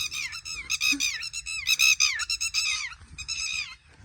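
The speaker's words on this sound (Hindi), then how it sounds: "ये जो तेतुली का शोर है वो हमारे यहाँ आमद पे शुरू हो जाता है।" Shrill, rapid alarm calls of a red-wattled lapwing defending its eggs or chicks repeat in excited bursts, loud and nearby, over a low background hum.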